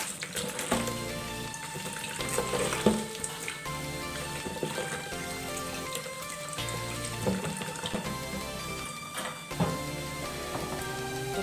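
Running tap water splashes over mushrooms being washed in a kitchen, a steady patter with irregular spatters, set against faint background music.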